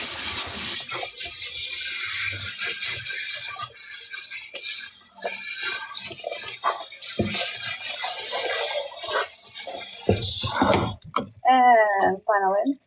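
A dog being rinsed during its bath, steady running water pouring and splashing loudly for most of the stretch before breaking into brief bursts near the end.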